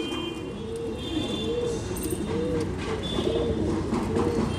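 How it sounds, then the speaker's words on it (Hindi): A Kalmuha pigeon, a high-flying breed, coos in a repeated, rhythmic series of low rolling calls, close and clear over a faint background hum. "ये देखें दोस्तों माशाल्लाह कलमुहा कबूतर मैं आपको शौक करवा रहा हूँ बाबू भाई के यहाँ"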